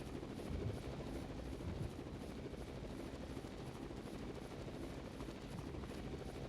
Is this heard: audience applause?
no